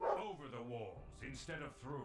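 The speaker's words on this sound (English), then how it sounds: "What's that dog barking at? He's really upset." A dog barks agitatedly in the Tyranny video game, with short, yappy, upset calls running under a character's spoken lines.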